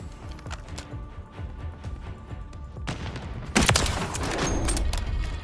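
Gunfire in the video game Call of Duty: Warzone 3, a run of sharp, rapid shots crackling across the first few seconds, then a loud burst and sustained roar of heavier fire near the end, with no talking.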